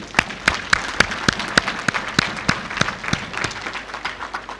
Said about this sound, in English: I shall clap for you.